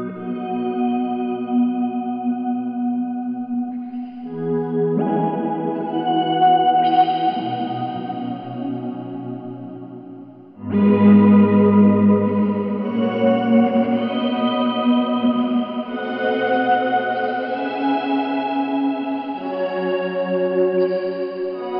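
Shimmering electric guitar chords ring out with a lush chorus wobble and trailing echoes, played steadily and close, no voices.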